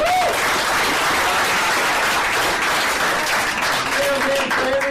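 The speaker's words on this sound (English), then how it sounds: "How about a round of applause for Chef D?" A room of people at a recovery support group gives a round of applause for the cook, Chef D: dense, continuous clapping throughout, with some voices and a cheer mixed in.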